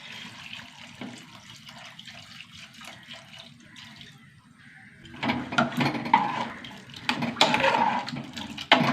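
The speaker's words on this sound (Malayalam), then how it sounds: "വെള്ളം ഒഴിച്ച് കൊടുക്കുക." Water is poured into a pot of sambar for dosa and idli, a splashing gush that starts halfway through and grows louder, after quieter kitchen clatter.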